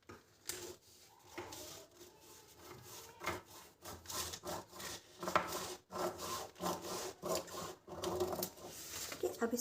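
Scissors cut through blouse fabric during tailoring, with a close series of irregular snips and rubbing, scraping strokes of fabric sliding on a table.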